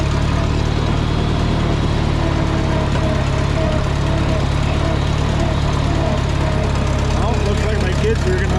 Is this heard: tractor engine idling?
yes